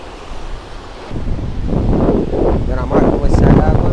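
Sea waves washing onto a beach in Cartagena, Colombia, a steady rushing surf with wind noise across the microphone, swelling louder after the first second while people talk nearby.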